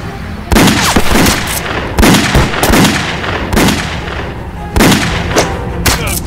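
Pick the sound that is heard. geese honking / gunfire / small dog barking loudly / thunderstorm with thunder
gunfire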